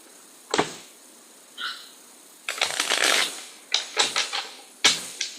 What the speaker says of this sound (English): I want to shuffle them really, really well